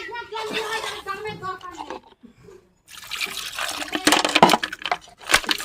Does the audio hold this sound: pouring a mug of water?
yes